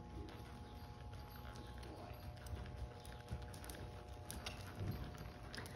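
A horse lopes under a rider, its soft, rhythmic hoofbeats thudding faintly at a steady three-beat pace against a noisy outdoor background.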